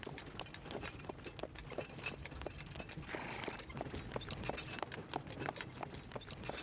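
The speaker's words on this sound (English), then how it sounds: "For these people, a horse and cart is still the most affordable means of transport." A horse and cart clip-clopping along a savannah road, a steady rapid rhythm of hoofbeats, close and continuous with faint background noise and no talk.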